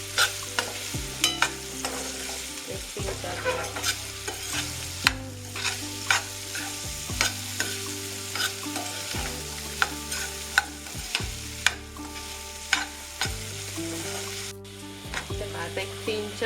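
Raw mango pieces frying in hot oil in a pan, with a steady sizzle and repeated spoon scrapes as they are stirred, heard under continuous background music.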